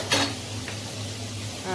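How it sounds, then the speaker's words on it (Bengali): Leafy greens fry in a pan while being stirred, a low sizzle under a clink of utensil against metal near the start and a brief scrape later. "শাকটা কিছুক্ষণ ভাজা হবে"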